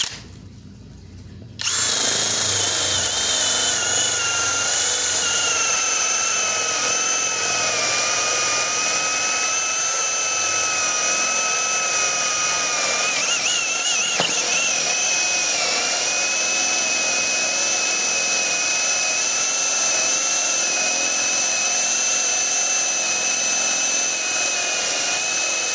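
A Dongcheng 2040i drill bores into teak with a 40 mm Forstner bit, starting after a brief quiet moment and then holding a loud, steady high-pitched whine with a grinding edge for over twenty seconds, close and alone.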